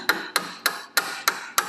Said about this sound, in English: to hammer it out